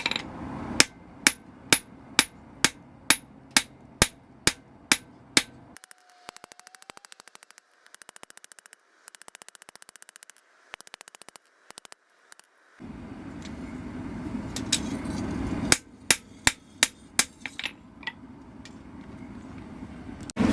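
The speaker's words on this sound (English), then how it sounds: "Start forging the bevel." A hammer forges the bevel of a knife made from a bearing race, with steady ringing blows in quick regular bursts, a quiet pause of low hiss in the middle, then another run of sharp, loud strikes close by.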